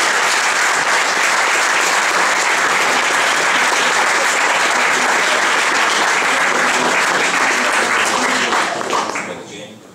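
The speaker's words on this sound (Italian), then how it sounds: "un bel applauso per Marco." An audience at a press conference presentation gives loud, sustained applause, a dense, even roar of many hands clapping for about nine seconds before fading out at the end.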